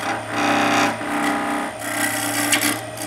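A skew chisel catches on spinning wood on a lathe, giving a continuous loud rasping, scraping grind with shifting texture and a few brief surges, close and without voices.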